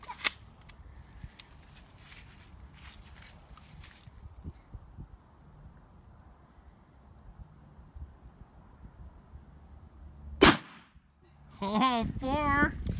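A Mossberg 510 Mini shotgun fires once at clay targets outdoors. The single sharp, loud report stands out over quiet rustling background, and voices follow close after the shot.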